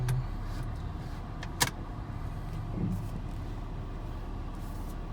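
A 2011 Ford Escape with 184k miles idles with a low, steady engine rumble, faint and constant, with a couple of brief clicks and knocks over the drone.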